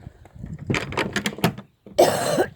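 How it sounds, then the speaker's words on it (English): A person on a muddy farm gives a short burst of raspy coughs, then one louder, harsher cough after a brief pause, close to the listener. "I've got a bit of a cough as well"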